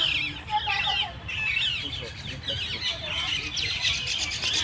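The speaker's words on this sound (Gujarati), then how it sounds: "તમે આ બધા અલગ અલગ પક્ષીઓનો અવાજ સાંભળતા હશો" Several birds chirp and call over one another in Central Park in Visakhapatnam, a busy layer of bright, high twittering at moderate distance over a low background hum.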